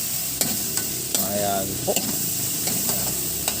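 Onion, garlic and tomato stirred and sautéed in a pan, with a steady sizzle and repeated clacks of the spoon against the pan, close up; someone speaks briefly.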